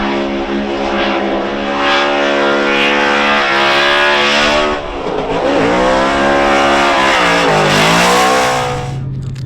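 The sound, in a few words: drift car accelerating at high speed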